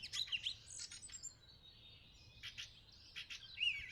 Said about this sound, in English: As the illumination grows, the intensity and emotional saturation of the bird songs grows as well.